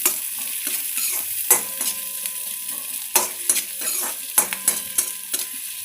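Onions and half a green chili fry and sizzle in a pan, with a steady hiss broken by repeated scraping and stirring clatter from a utensil, close and fairly loud.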